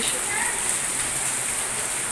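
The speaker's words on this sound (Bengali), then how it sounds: "আমি তো এখন বসে বসে দেখো বৃষ্টি ফিল করছি অনুভব করছি" Steady rain falling outdoors near potted plants such as money plant and tulsi, a dense, even hiss of drops pattering on surfaces, close and continuous throughout the short stretch.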